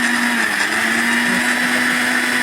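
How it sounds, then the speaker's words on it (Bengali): A kitchen blender whirs loudly and continuously, blending coriander leaves, salt and mustard oil for a fish dish, its motor holding a steady, close, high hum with no pauses. "এখন এটাকে আমি ব্লেন্ডারে ব্লেন্ড করব"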